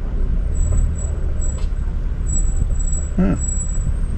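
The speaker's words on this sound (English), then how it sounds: "we're hearing a little bit of a squeal, might be the brake squeal" A high, thin brake squeal comes and goes several times over steady RV engine rumble and road noise in slow-moving highway traffic in Alaska.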